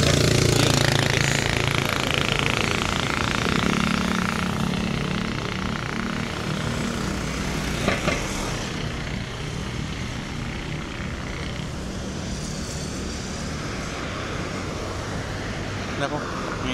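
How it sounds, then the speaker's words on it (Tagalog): Busy street traffic rumbles steadily, with vehicles passing continuously nearby in a dense, loud wash of engine noise while a person talks over it. "Dami sasakyan."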